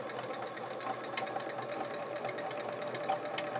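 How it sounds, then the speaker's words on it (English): A sewing machine hums and stitches continuously at a steady, moderate pace while joining quilt chevron pieces, close and fairly quiet with no talking. "trying to make sure I'm sewing as straight as I can"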